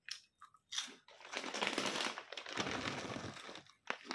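American cheese flavoured Cheetos crunched and chewed up close, a few sharp bites followed by a sustained stretch of crisp munching, loud and alone without speech.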